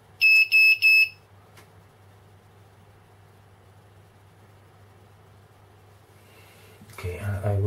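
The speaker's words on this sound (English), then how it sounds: "I will unplug this beeper because my son is sleeping" Electronic beeper alarm sounding three quick, loud, high-pitched beeps at the start, then a quiet room hum before louder rustling and noise near the end.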